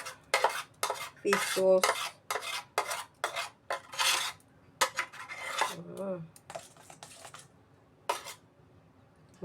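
Garlic and onion kimchi paste is stirred in a bowl with a utensil, giving a series of quiet, uneven clinks and scrapes against the bowl, with a brief spoken phrase in the middle.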